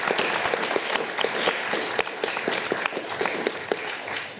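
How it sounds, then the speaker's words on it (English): Lecture-hall audience applauding for a student volunteer after a merge sort demonstration in an algorithms class, dense steady clapping from many hands, fairly close and sustained throughout. "Can we have a huge round of applause for Finn?"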